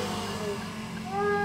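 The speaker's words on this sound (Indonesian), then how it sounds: "Klakson kucing." A modular electric horn plays a synthetic cat meow, with wavering tonal glides repeating over a steady buzzing background, loud and close.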